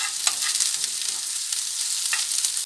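Onions and green capsicum sautéing in a pan, a bright steady sizzle with brief bursts of crackle as the vegetables are stirred, close and with no talking.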